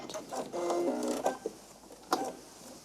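A sewing machine stay stitching the folded pleats of dress skirt lining pieces: a few short bursts of fast mechanical needle clatter, close by, broken up by brief pauses and small handling knocks.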